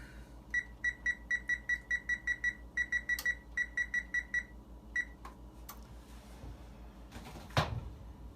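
An oven timer beeps in a home kitchen, sounding a long run of short, evenly spaced electronic beeps in bursts, followed by a few clunks and rattles near the end.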